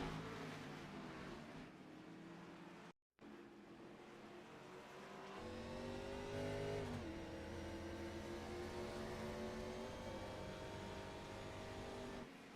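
Race car engine in the iRacing video game at the Montreal circuit, a loud continuous whine that climbs in pitch and then drops sharply at a gear shift before rising again, with a brief cut to silence early on.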